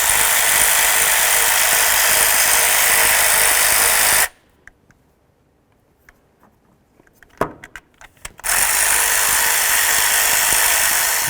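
A power tool whirs loudly on a 2006-10 Dodge Charger while bolts are removed with a 10mm socket, cutting out midway for a few seconds of quiet metallic clinks, then starting up again.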